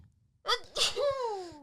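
A single close, sharp sneeze with a quick intake before it and a trailing voiced exhale, heard clearly against a quiet room.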